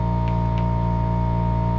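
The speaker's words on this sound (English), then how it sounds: "That noise you hear is the compressor running." An air compressor runs steadily in a knife-making workshop, a constant loud hum with strong low harmonic tones and no pauses, alone without talk.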